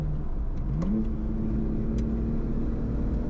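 A BMW M4 with aftermarket SPL suspension drives hard on a race track. Its engine drones loudly and steadily, and the pitch climbs as it accelerates through a gear, heard from inside the car.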